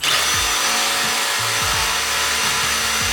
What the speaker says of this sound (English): So let's drill this out and see what happens.